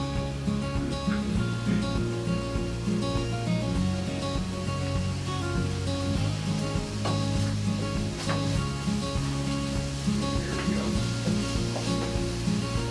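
Steady, loud sizzling of hamburger meat frying in a pan, a continuous crackling hiss with occasional pops and no talking.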